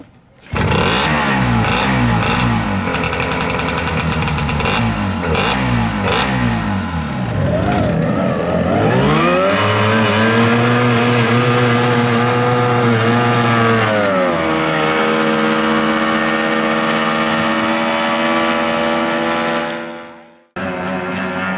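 Outboard hydroplane racing boats make test laps, their high-revving engines screaming loud and continuous. The pitch rises and falls as the boats pass, then the sound cuts off abruptly at the end.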